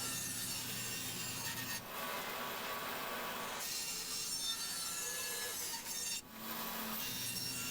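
A bandsaw cuts wood in a workshop, a continuous close whirring hum with the rough rasp of the blade through the stock, interrupted by two short dips as the cut shifts.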